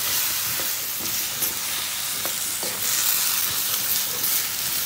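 Smoked pork with palm heart cooks in a pot, giving a steady broadband sizzle and hiss throughout with a few soft stirring knocks, close and fairly loud, with no talking.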